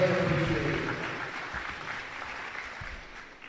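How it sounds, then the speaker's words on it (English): Audience applause for the families at a Georgia high school athletic signing day ceremony, a steady broadband clatter of many hands that starts loud and slowly tapers off over a few seconds. "let's give a round of applause to the support system"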